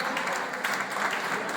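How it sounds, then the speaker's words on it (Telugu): An audience at a cake-cutting celebration claps continuously in a dense, steady burst of applause filling the room. "ఒకసారి అందరూ క్లాప్"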